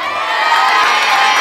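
Children at a school sports medal ceremony cheer and shout for a medal winner, a loud continuous burst of crowd voices and whoops filling the short moment.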